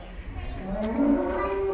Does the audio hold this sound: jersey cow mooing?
yes